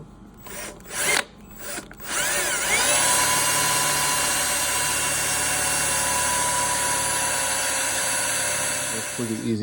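A power drill bores a 3/16 hole in a soft aluminum horn part from a Triumph TR6. A few short bursts give way to a steady high whine that holds for several seconds.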